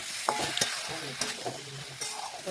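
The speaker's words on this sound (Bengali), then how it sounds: "ফুলকপি নাড়াচাড়া করে বেশ কিছুক্ষণ আমি রান্না করে নিচ্ছি।" Salted cauliflower florets fry in a pan with a continuous gentle sizzle, while a spatula stirs them in quick scrapes and light knocks, close and fairly quiet.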